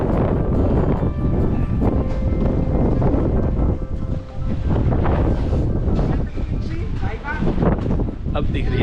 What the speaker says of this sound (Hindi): सनसनाती हुई हवा चल रही है